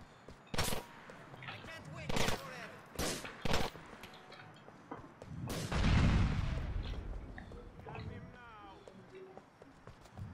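Several sharp gunshot bursts crack out in GTA IV: The Ballad of Gay Tony, then a heavy grenade explosion booms and rumbles for about a second, followed by quieter clatter.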